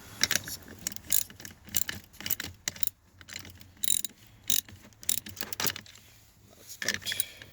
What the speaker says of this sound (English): I will be tightening them with the socket wrench.